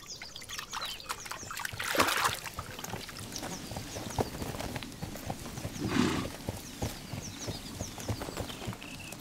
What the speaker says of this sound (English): The horses from the plateau feed to a large extent on plants, which they graze on under the water.